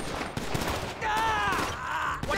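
Gunfire and chaotic action in GTA 5 during a street fight against the Vagos gang, dense and loud throughout, with shouted voices and a rising whine layered over the noise.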